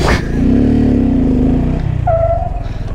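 A motorcycle engine revving hard during a stoppie, a loud close rising drone that holds and then drops away, ending with a short higher whine.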